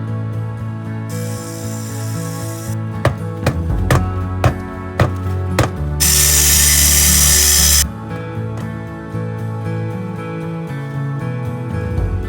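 Power tool cutting red patio paver bricks along marked lines for a hearth pad, loud grinding bursts of cutting between rhythmic knocks and thumps, one sustained harsh cut in the middle, up close, no talking.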